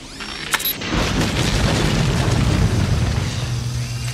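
An explosion blows apart a web in the Beast Wars animated series, a sharp burst that swells into a long, loud, rumbling roar lasting several seconds.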